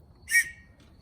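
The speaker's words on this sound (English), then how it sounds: "Oh, an emergency whistle." A single short, shrill whistle blast, clear and high-pitched, over faint background noise.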